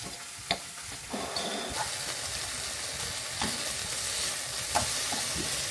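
Food with chili flakes being mashed in a hot pan, soft scraping and stirring strokes over a quiet sizzle, with a few sharper taps of the utensil against the pan.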